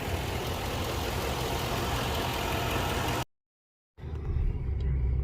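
A 2003 Lincoln Town Car engine idles with a steady broadband rumble. The sound breaks off into a short silence, then resumes slightly quieter and smoother.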